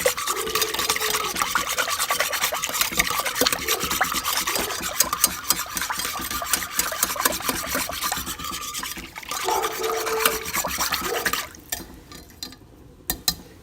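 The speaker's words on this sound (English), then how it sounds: "So just going to whisk that around." Brown gravy mix whisked into water in a bowl: a continuous, rapid scraping and swishing of the whisk against the bowl, steady and close, with brief changes in stroke before it tapers off near the end.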